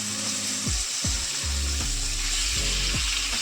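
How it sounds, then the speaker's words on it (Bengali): Khoira fish fry in hot oil with a steady, hissing sizzle. Several low, sweeping knocks from the pan or utensils recur every half second or so, and no one speaks. "মাছগুলো আগে ভেজে নেবো তার জন্য তেলটাকে ভালোভাবে গরম করে নেবো"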